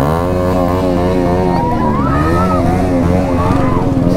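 A motorcycle engine revs loudly and continuously up close, its pitch rising and falling through repeated throttle blips with no pause.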